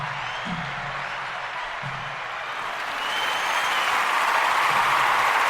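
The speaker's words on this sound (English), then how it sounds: "Getting layers of applause here." Layered audience applause marking a podcast's 200th episode: a steady, dense wash of clapping that swells louder partway through, with faint low voice murmurs underneath early on.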